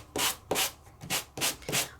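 Embossed cardstock being sanded with a handheld sanding gadget, about five to six rhythmic gritty rubbing strokes in quick succession, close and moderately loud, with no talking.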